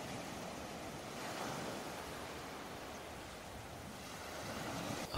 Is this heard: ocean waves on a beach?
yes